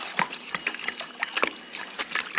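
Distilled water stirred in a big bowl for a cloth wipe solution, giving a series of close, irregular light sloshes and splashes at a quiet level.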